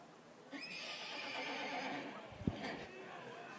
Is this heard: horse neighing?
yes